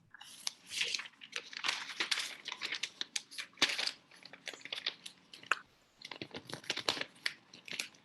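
A sheet of paper is folded lengthwise for a winter craft, giving soft crinkles, rustles and sharp creasing snaps at close range, irregular and fairly quiet.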